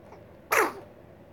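A single short, sharp sneeze bursts out of a quiet room, close and fairly loud, then fades quickly.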